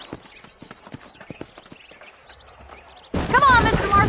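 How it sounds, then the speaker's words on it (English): Horses' hooves clip-clop in Red Dead Redemption, a steady series of hoofbeats under scattered game chatter, ending in a sudden loud burst of noise near the end. "These are fine horses."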